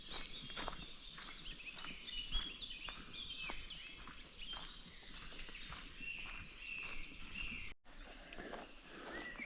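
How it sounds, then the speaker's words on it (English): Many birds chirp and sing densely in a forest, with insects buzzing beneath them, heard continuously and fairly close, without any talking. "You can hear how alive this wood is, how many birds make noise."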